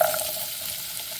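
Mango pieces hitting a hot pan of pickle masala with chili, giving a steady broadband sizzle with faint stirring scrapes throughout, close and continuous, no voices.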